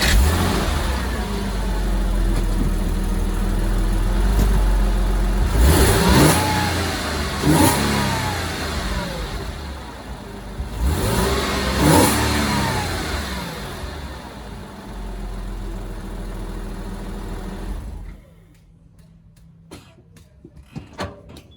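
A Porsche 986 Boxster flat-six fitted with a de-snorkeled free intake starts with a cranking burst, then revs sharply twice in rising and falling sweeps over a steady idle before switching off into near silence, parked in a driveway.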